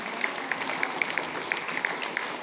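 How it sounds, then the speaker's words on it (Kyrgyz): Audience applause at a youth recognition event in Talas: steady dense clapping from a crowd, moderately loud and continuous throughout, with occasional sharper individual claps standing out. "Кол чаап коюңуздар."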